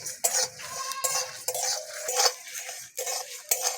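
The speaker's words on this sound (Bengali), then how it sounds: "মশলাগুলোকে 2 থেকে 3 মিনিট ভালো করে ভেজে নেব" Whole coriander and cumin seeds dry-roast in a pan, with a spatula repeatedly clinking and scraping against the metal in close, uneven bursts separated by brief pauses.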